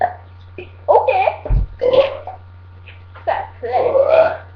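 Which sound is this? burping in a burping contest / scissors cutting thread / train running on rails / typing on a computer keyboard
burping in a burping contest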